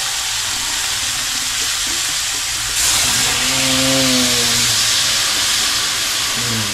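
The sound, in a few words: water added to tilapia frying in a pan, sizzling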